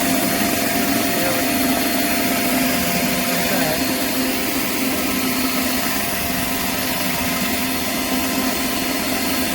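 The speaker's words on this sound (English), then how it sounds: "Get the washer, clean out the inside of the stain." A JANZ 16-inch stainless steel pressure washer surface cleaner with four wheels scours a bad stain on concrete, giving a loud, steady, close hissing roar that runs unbroken throughout.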